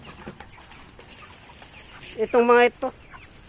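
A rooster clucks among chicks on a farm, with one short loud burst of clucking and a quieter cluck just after, while a person speaks briefly.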